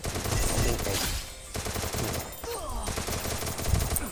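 Rapid automatic gunfire in a shooter video game, loud dense bursts with a brief pause around the middle, then renewed firing.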